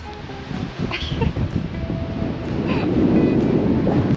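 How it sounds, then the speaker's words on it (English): Strong wind buffets the microphone in steady gusts on a beach near Lancelin, Western Australia, with a broad roaring rush like surf in the background and occasional faint voices. "Look how windy it is."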